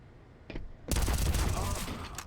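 A rapid burst of gunfire in Counter-Strike on the map Vertigo during an ESL Challenger League match, a sharp dense volley that cuts in after a brief faint shot, loud and continuous to the end.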